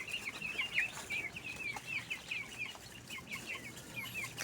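Free-range 45-day broiler chickens kept alongside ducklings cluck softly at 3 a.m., a continuous low chorus of short, repeated clucks at moderate distance with quiet rustling beneath.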